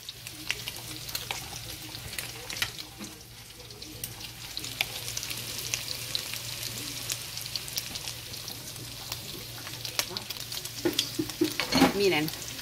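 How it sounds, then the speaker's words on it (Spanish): Cooked beans are refried in hot oil, giving a steady close sizzle and crackle with occasional stirring scrapes and pops that grow louder near the end. "agregando mis frijoles que ya están cocidos aquí para refreír"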